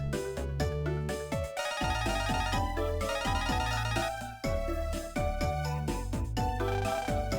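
A phone-call ringtone from the video game Megaman Starforce 2 plays as a bright electronic melody of repeating chiming notes with a pulsing bass, steady and prominent throughout with brief dips between phrases.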